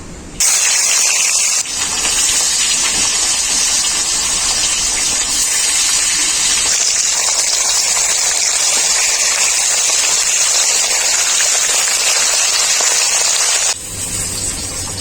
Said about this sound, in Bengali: বাকি মাছগুলো আমি একইভাবে ভেজে নেবো